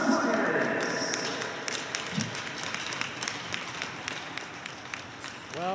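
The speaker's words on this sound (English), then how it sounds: "let's have one more round of applause for our conference players." Applause at an all-star basketball game, a crowd clapping loudly and steadily, fading slightly toward the end, with a voice heard briefly.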